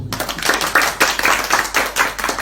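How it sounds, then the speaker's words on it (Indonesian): Audience clapping at a community discussion gathering, a group of hands beating in quick rhythmic unison, close and loud, around eight to nine pulses with no talk. "Tepuk tangan dulu dong"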